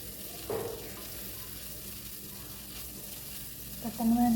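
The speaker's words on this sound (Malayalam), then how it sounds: "ചൂടായുള്ള എണ്ണയിലേക്ക്, ഒലിവ് ഓയിലേക്ക് നമ്മൾ സ്ലൈസ് ചെയ്ത് വെച്ച് സവാള ഇടുകയാണ്" Sliced onions hit hot olive oil in a pan with a soft, steady sizzle and frying hiss, a brief stir near the start and a clink of utensils toward the end.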